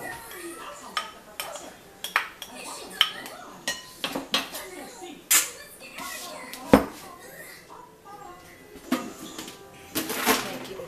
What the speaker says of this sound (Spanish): Voy a agregarle la zanahoria rallada.